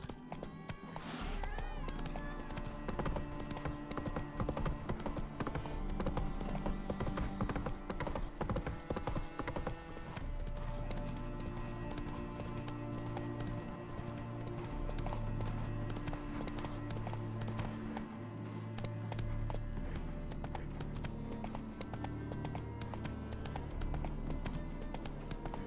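Hooves of a horse, Roach, clip-clopping in The Witcher 3: Wild Hunt: a steady, even trotting rhythm under a continuous game music score, running throughout the passage at moderate loudness.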